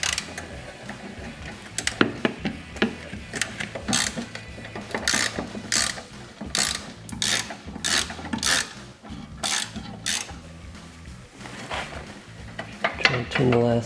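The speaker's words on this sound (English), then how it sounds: "Now we're going to remove the front bolt of this rear bracket." A bolt on the rear bracket of a RedRock molded ABS side step on a Jeep Wrangler TJ being loosened with a ratchet, rapid clicking bursts repeating close by in short runs with brief pauses.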